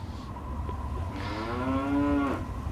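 A Brahmin cow in Fallout 3 lets out one long, drawn-out moo that rises and bends in pitch, near and clear above a steady low game ambience.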